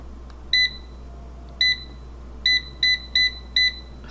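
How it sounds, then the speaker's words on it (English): OMORC digital air fryer sounding short electronic beeps as its timer is set, six crisp tones in an irregular sequence over a low hum, close and clear. "today I gonna set up my timer"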